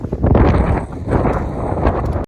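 Strong, gusty winter wind buffets the microphone on the snowy summit of Striding Edge, a loud, rumbling roar that swells and dips throughout without a break and with no talking.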